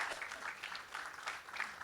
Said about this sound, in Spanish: Un aplauso para Denise